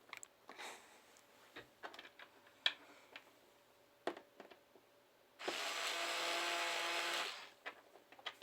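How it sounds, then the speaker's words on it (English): A screwdriver drives screws into the back cover of an Alphasmart NEO. Scattered light ticks and clicks of handling lead into a steady whirring burst lasting nearly two seconds, then more faint clicks. "I'll put two screws on."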